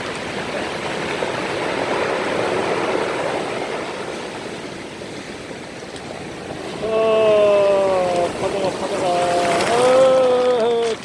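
Ocean waves wash and surge against a boat out at sea, a steady rushing of water with heavier swells, joined midway by a loud tonal horn-like or motor whine.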